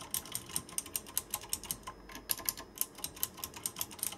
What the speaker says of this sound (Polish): Mamy tutaj przełączniki Cherry MX Blue, czyli 50 milionów klików żywotności.